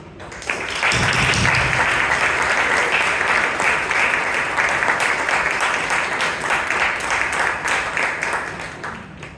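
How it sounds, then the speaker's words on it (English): A huge round of applause breaks out at a Toastmasters club meeting, loud sustained clapping from the whole room starting abruptly and holding steady for about nine seconds. "Let's give our vice president membership a huge round of applause"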